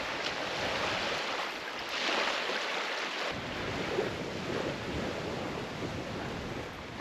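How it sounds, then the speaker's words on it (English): Steady wind roars and buffets the microphone with a broad rushing noise at a lakeside camp spot, no voices present. "It's just a little bit windy, but that's okay."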